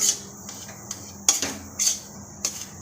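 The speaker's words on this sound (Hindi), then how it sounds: "तो यहाँ पर लगातार चलाते रहें, छोड़े बिल्कुल भी ना, और लगातार चलाते हुए इसे हम भूनेंगे।" A spoon scrapes and clinks against a pan while besan is stirred and roasted in ghee for laddoos, with intermittent sharp metallic knocks over a quiet background and no talking.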